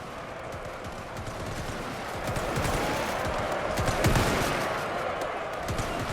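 Soldiers firing rifles in a WW1 strategy video game battle with American forces in Estonia: dense, steady crackle of overlapping shots and impacts, moderately loud and continuous for the whole stretch, with no voices.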